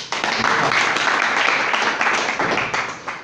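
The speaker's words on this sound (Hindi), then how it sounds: "एक बार अपने लिए तालियां।" A crowd at a motivational self-improvement program breaks into brisk applause, a dense burst of clapping that swells and then tapers over a few seconds.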